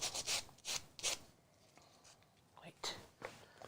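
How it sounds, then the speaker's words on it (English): A sanding block rubs by hand across a wooden craft piece in a few quick rasping strokes, close and fairly soft, followed by a pause and then more scattered strokes. "I wonder what happens if I sand it instead of trying to chip it off in big old chunks"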